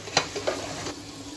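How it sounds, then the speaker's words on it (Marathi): Chicken for biryani sizzles as it fries in oil, with a couple of sharp spatters and brief stirring scrapes over a soft, steady crackle. "मस्त इकडे हे तळणं चालू आहे मित्रांनो"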